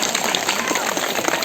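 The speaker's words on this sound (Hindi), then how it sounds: "तालियां बजती रहनी चाहिए" Teachers and spectators clap together at a block-level school sports and cultural competition in Lamgara, Almora, a dense, steady patter of many hands filling the whole moment.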